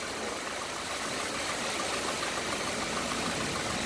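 A 2009 Daewoo Gentra with its original, unmodified engine idles smoothly up close, a steady even rumble and hum with no break across the whole stretch.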